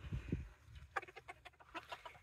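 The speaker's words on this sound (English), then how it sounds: "This one's a rooster?" A rooster held close gives a few low clucks, followed by a short string of quicker, softer rhythmic clucking.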